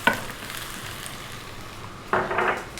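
Onion and garlic fry in a tablespoon of corn oil for Chinese lemon chicken, a steady soft sizzle with a light clatter at the start and a louder burst of sizzling and stirring near the end.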